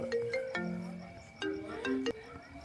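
An electronic phone ringtone plays a short chiming melody of bright synthetic tones, fairly close and clear, with no voices.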